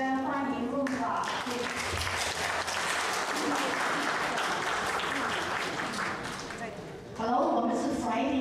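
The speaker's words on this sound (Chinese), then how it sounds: "现在请我们以热烈的掌声欢迎陆老" An audience at an Asian seniors' anniversary celebration claps loudly for an arriving performer, a dense sustained round of applause lasting several seconds, close, with music and voices at the start and end.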